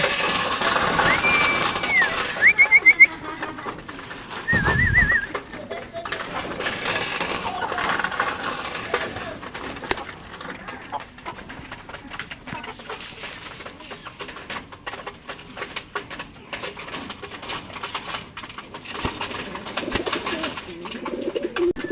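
Racing pigeons in a loft cooing before feeding, soft burbling calls close by among rustling and scattered clinks, while someone talks at intervals over the quiet background.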